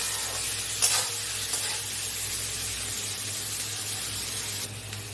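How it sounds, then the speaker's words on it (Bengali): Chopped onions fry in oil in a wok, giving a steady close sizzle that runs throughout with occasional scraping stirs and no talk. "পেঁয়াজটা আমার ভাজা হয়ে এসছে হালকা।"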